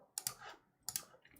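Quick clicky keystrokes on a computer keyboard come in two short bursts, close and fairly quiet, with a sharper final click and no talking.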